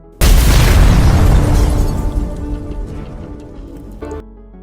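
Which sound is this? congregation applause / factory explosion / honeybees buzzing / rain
factory explosion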